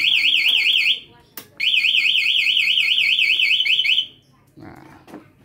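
The anti-theft alarm on a Honda Genio 110 scooter sounds loudly as a warbling siren, breaks off briefly, then resumes before stopping, and a voice talks in the background.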